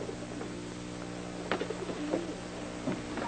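Pigeons coo softly in a small rented coop, low throaty calls rising a few times over a steady humming background, fairly faint and with no one speaking.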